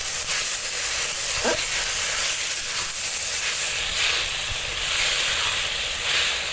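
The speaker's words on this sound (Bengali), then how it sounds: "চাল কুমড়োটা তেলের মধ্যে দিয়ে নেড়ে নিচ্ছি" Salted, flattened ash gourd pieces for chal kumro shukto are stirred in hot oil with ground spice paste, giving a steady, loud, broad sizzling hiss throughout with no talking.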